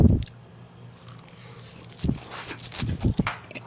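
Close, crisp bites and crunchy chewing on food wrapped in nori, in short irregular bursts after a quiet pause, recorded intimately in ASMR style.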